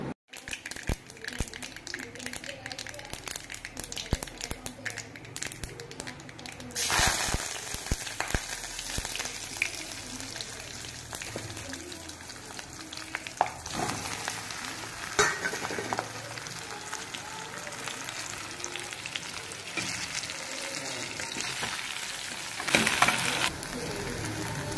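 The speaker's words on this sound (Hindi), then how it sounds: "तो यहाँ पे मुठिया का तड़का मैंने लगा दिया है।" Muthiya tadka, spices tempered in hot oil in a home kitchen, crackling and sizzling loudly and steadily for the whole stretch, with sharper spits and bursts of popping now and then.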